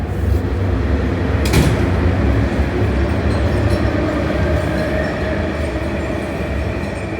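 A train passes through Tsing Yi Station in Hong Kong as a loud, continuous rolling rumble of rail cars, with a short sharp clack partway through and a slowly easing roar toward the end, without any voices.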